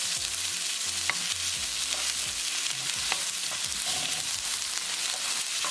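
Onion sizzles steadily in hot oil in a pan, with a continuous frying hiss broken by scraping stirs and occasional clinks of the utensil, close and fairly loud, no talking.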